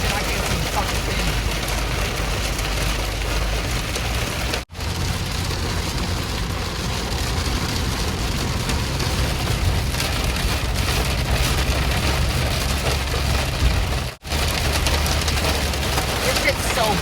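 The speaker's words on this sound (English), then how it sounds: "See how hard it's raining right now?" Heavy rain pounds down steadily and loudly during a storm chase, a dense continuous roar broken by two brief dropouts.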